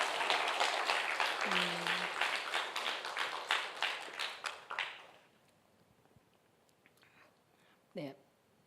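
A congregation claps during a church service, a dense round of applause that thins and fades over about five seconds into near silence, followed by a brief voice.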